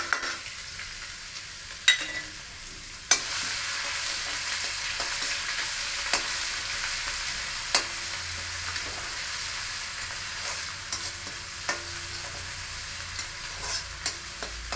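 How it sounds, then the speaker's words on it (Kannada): A paste of onion, garlic, ginger and green chili sizzles steadily in a pan, a continuous hiss broken by a few sharp clicks and stirring knocks, close and unaccompanied by talk. "ನೆಕ್ಸ್ಟು ಈರುಳ್ಳಿ, ಬೆಳ್ಳುಳ್ಳಿ, ಶುಂಠಿ, ಹಸಿಮೆಣಸಿನ್ಕಾಯಿ ಹಾಕಿರೋ ಪೇಸ್ಟ್ ಹಾಕ್ತಾ ಇದ್ದೀನಿ."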